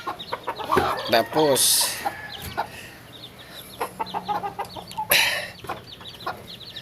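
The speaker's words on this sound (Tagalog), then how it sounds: "silipin natin yung sisiw ko" Chickens and little chicks cluck and peep close by in a flooded yard, a busy mix of short clucks and high cheeps with a few louder squawks, while a person speaks briefly over them.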